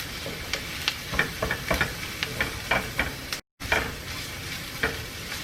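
Garlic sizzles in a hot pan with a steady fry hiss, broken by repeated scraping stir strokes at an irregular rhythm, close and fairly loud, with a brief cut to silence midway.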